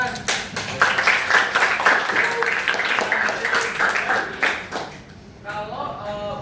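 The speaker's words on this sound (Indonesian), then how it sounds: "Tepuk tangan." A classroom audience breaks into applause, a dense burst of clapping that runs loud and steady for about five seconds before thinning out, with a voice starting to speak near the end.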